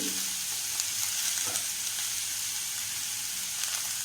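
Long-sliced big onions frying in a pan give a steady, close sizzling hiss with light stirring scrapes, continuous and unaccompanied by speech.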